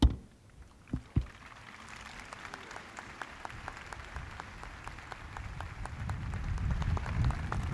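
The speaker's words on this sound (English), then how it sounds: "after applause of that kind, I applaud you" Applause from an audience at President Reagan's remarks to the National Commission on Excellence in Education: a few loud thumps open it, then dense, even clapping builds and swells to a full, sustained ovation.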